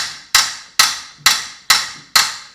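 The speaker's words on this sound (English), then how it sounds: "take a hammer and, as you've seen me do, and just tap upwards" Five sharp metallic hammer taps on a spanner, evenly spaced about half a second apart, close and clear, each ringing briefly before the next, loosening a Suzuki Intruder VS1400 motorcycle engine.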